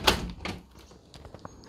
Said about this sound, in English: Okay, door's open fine.